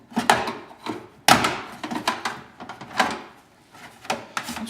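Plastic retaining clips on a GMC Jimmy front door panel pop loose as the panel is pried off, a series of sharp, close snapping cracks at irregular intervals with hollow knocks between.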